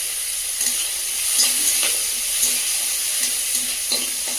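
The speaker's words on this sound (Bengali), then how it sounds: "এই চিংড়ি মাছগুলো দিয়ে চচ্চড়ি ভেজে যাবে" Freshwater prawns fry in a pan with a close, continuous bright sizzle, punctuated by soft periodic scrapes and stirs, with no one talking.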